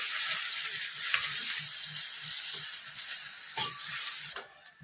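Veg noodles are stir-fried in a pan with a constant hissing sizzle and a regular rhythm of spatula scrapes and taps, including one sharper knock, before the sizzle drops away at the end.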